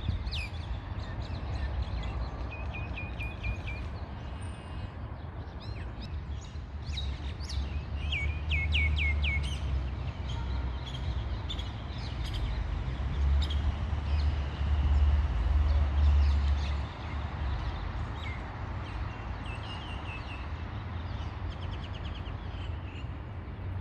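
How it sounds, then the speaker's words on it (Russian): Bright, ringing bulbul songs ring out in repeated short phrases over a constant low rumble, the birds fairly close and clear, in Mamilla, Jerusalem, in autumn. "Вот эти звонкие птички называются бульбуль."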